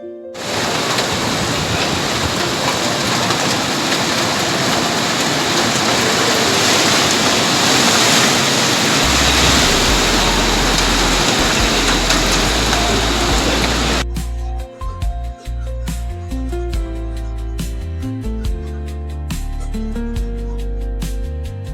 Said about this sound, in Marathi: दाखवतो तुम्हाला किती पाऊस पडतो बाहेर ते.